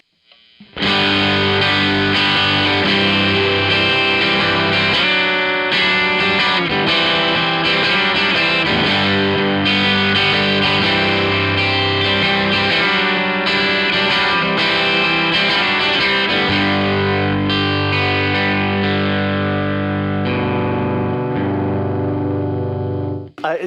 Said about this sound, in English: they can put up with this amount of distortion and still, to me, sound relatively clear